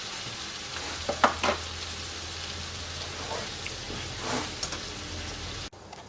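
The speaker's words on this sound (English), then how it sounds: "We'll give that a couple of minutes to soften the onion before we put the garlic in." Onion softening in a pan for chicken paprikash, a steady low sizzle with a few stirring scrapes and taps, close and fairly quiet, cutting off abruptly near the end.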